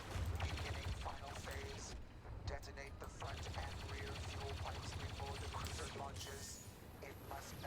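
Blaster gunfire and battle noise from Star Wars Battlefront 2, rapid, dense, rattling volleys that continue nonstop with clicking mechanical effects mixed in.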